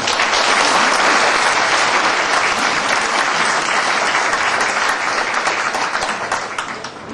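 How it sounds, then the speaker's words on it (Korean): A hall of district office staff in Daegu gives loud, sustained applause to welcome a National Assembly member arriving for a lecture, dense steady clapping that tapers slightly at the end. "김희국 국회의원님을 큰 박수로 환영해 주시기 바랍니다"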